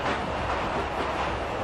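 Simulated train running in the Mechanik train simulator game, a steady rumbling rail roar with continuous low clatter and no talk.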